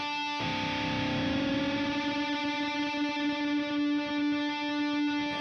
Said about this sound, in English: So I'm going to tune my guitar real quick.